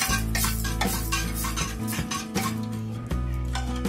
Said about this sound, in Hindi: तड़का लगा लिया है, इसे चला लेंगे।